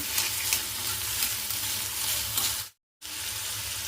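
Ingredients for chutney, including tamarind, fry in a pan with a close, steady hiss and sizzle that breaks off briefly near the end, then resumes.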